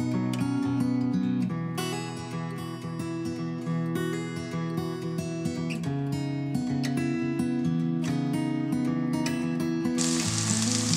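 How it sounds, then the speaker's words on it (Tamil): Onions, ginger and garlic sauté in a pan over a medium flame, a steady sizzle and fry with occasional stirring clinks, close and continuous, partly under background music. "ஃப்ளேம் நான் மீடியம்ல வச்சு வதக்கிக்கிட்டு இருக்கேன்."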